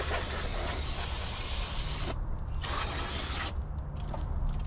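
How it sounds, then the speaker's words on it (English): Brake parts cleaner sprayed from an aerosol can onto a tractor part near the starter, a loud close hiss in long bursts with two short pauses. "so I sprayed some cleaner on it. Sprayed some more cleaner on it."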